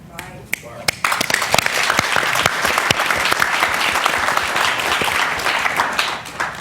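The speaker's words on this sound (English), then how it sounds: "Let's give our participants another huge round of applause." A school audience gives a loud, full round of applause for youth panel participants, dense clapping that swells quickly and holds steady, with some voices in the crowd.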